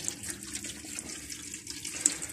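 Water runs steadily from the tap in a Swift Challenger 440 SE caravan, a brief, close, even hiss of flow lasting a couple of seconds with no talking.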